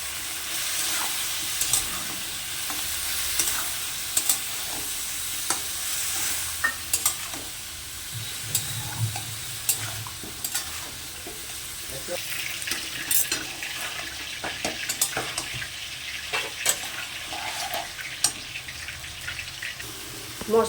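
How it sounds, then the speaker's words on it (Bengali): Green chili, cumin, ginger and turmeric fry in a pan with a steady low sizzle, punctuated by scattered stirring clicks and scrapes, close up and continuous for about twenty seconds without speech. "মশলাটা আমার কষানো হয়ে গেছে"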